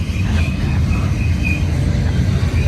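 A BNSF freight train rolls past close by with a loud, steady rumble of wheels and cars, holding a faint high squeal throughout and no voices.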